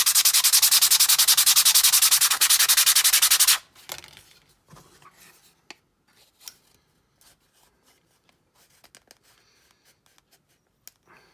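Wood is shaved and scraped off a small part for a Sovereign of the Seas model ship kit: a loud, continuous close rasping for a few seconds, then faint sporadic scrapes and light taps in near silence.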